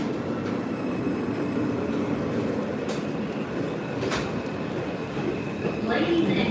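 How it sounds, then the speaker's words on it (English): A New York subway L train runs with a steady, loud rumble and rattle of wheels on rails heard from inside the car, with occasional sharp clanks and a faint squeal near the end. "the next Rockaway Parkway bound L train is stopping"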